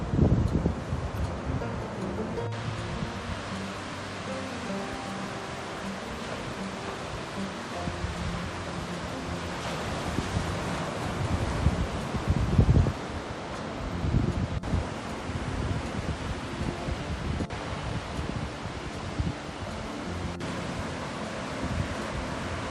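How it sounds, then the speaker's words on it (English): Ocean surf and wind on Westport Beach along Highway 1 in Mendocino County, California: a steady broadband roar of waves with gusty wind buffeting the microphone, swelling louder around the middle and continuing throughout. "Me and Ron have been walking the beach every day for the last week"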